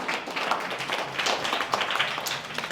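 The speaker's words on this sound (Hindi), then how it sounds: "इसके लिए जोरदार ताली बजाओ उसके स्वागत में।" An audience at a spiritual talk claps steadily in welcome, a dense continuous patter of many hands at moderate distance with no voices over it.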